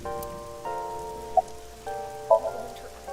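Steady rain patters across a video game scene in AI: The Somnium Files, a soft even hiss beneath sustained musical tones and a few brief chimes, with no voices.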